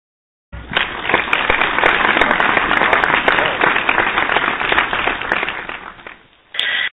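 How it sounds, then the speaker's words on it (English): A talk-show studio audience claps to welcome a book author, a dense burst of applause that holds for about six seconds, dips, and then briefly swells again. "let's welcome with a warm applause to Thanh Campbell."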